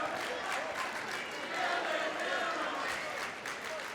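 Boys high school basketball crowd in a gym cheering and clapping after a three-pointer ends the quarter, a continuous loud roar of applause and shouts with a commentator talking over it.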